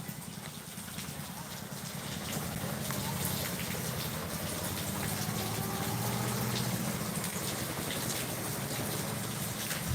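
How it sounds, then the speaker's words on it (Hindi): Steady monsoon rain pours down outdoors, a dense, continuous hiss with a heavier water rush that swells after the first couple of seconds and stays loud throughout. "पानी बरस रहा है और उसी में मौका मिल गया आपसे बात करने का।"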